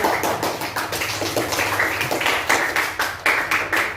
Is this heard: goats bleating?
no